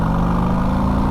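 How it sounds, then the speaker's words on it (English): Harley-Davidson Street Glide ST motorcycle, 2022 model with Ohlins suspension, engine running with a loud, steady low rumble that fills the brief moment close to the listener. "Just listen to this engine."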